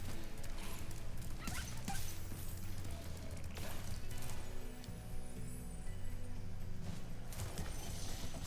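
Red dogs in the Spyro video game bark and yip in quick, repeated bursts, moderately loud over a busy game background of footsteps and ambient sound.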